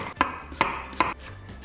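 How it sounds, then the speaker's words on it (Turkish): A knife chops half an onion finely on a board, three sharp, evenly spaced cuts landing close and clear, with quiet pauses between them and no talking. "Bir tane de yarım soğan doğrayalım aynı şekilde minik minik."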